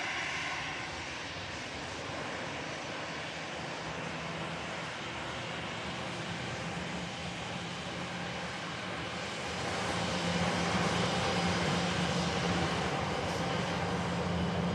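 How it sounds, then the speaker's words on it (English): A Brussels Airlines Airbus A319 airliner landing at Manchester Airport, its engines a steady broad roar heard from some distance that swells louder toward the end, with no talk. "Brussels Airlines Airbus A319 just coming in from Belgium"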